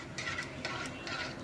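A pot of khichdi is stirred after water is added, with soft scraping and clinking of the spoon against the pot, a few close gentle strokes and no talk.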